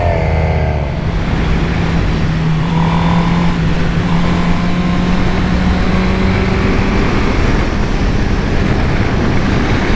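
A sports bike motorcycle engine runs while being ridden, a loud, steady drone mixed with rushing wind noise that holds constant throughout, with no talking.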